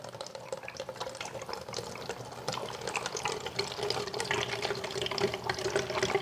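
Liquid carburetor flusher pours through a funnel with a constant trickling, gurgling stream that grows slightly louder and fuller as the container fills.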